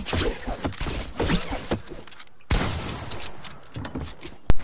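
Video game gunfire crackles in rapid, loud volleys, broken by a short gap midway, and ends with a sharp final shot.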